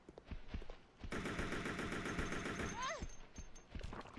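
Rapid bursts of gunfire in Resident Evil Code Veronica X ring out loud and dense for about a second and a half, followed by a rising creature shriek, with scattered footsteps and thuds before and after.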